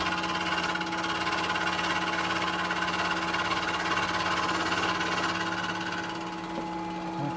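A milling cutter takes a light 15-thousandths cut with only part of the cutter engaged, giving a steady, close droning hum with a sustained tonal whine at an even level throughout and no speech.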